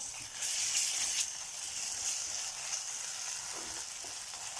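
Onion with ginger-garlic paste frying in a pan for a stuffed capsicum gravy, a steady close sizzle and hiss running throughout with slight stirring, no voice.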